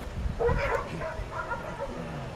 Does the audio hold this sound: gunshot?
no